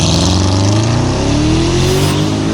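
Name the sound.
twin-turbo V8 engine revving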